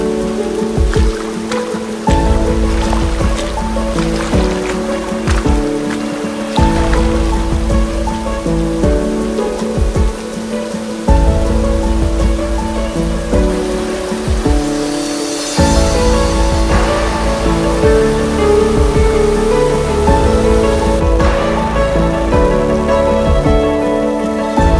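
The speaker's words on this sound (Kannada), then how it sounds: "ನೀರು ಹರಿದು ಬರ್ತಾ ಇದೆ" Water pours and splashes steadily at Savatkada Waterfalls in dense forest, a loud, continuous rushing roar that rises and falls in patches, with background music and no talk.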